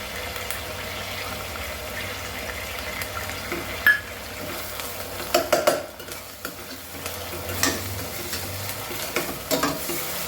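Curry leaves sizzle in hot oil as they are stirred into a Goan crab curry with mango, giving a steady frying crackle with scraping and clinking of the spoon against the pan throughout.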